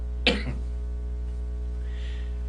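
A single sharp, close cough from a radio host sounds on a late-night Mexican broadcast, followed by quiet room hum with a faint rustle and no speech.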